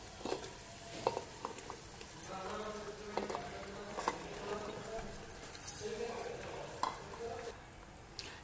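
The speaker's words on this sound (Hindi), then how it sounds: "1 से 2 बार चलाइए, देखिए ऐसे, ताकि सभी मसाले लौकी के ऊपर भी आ जाए।" A spoon stirs chopped bottle gourd into mutton curry in a pan, with soft scraping and light sizzling at a low level, plus scattered small clinks and a faint buzz in the background.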